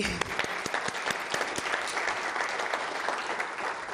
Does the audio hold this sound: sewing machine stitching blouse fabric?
no